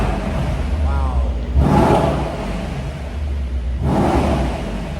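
2013 Mercedes-Benz SL63 AMG with its 5.5 litre V8, revved twice in short bursts, each a loud rising roar over a steady idle rumble at close range.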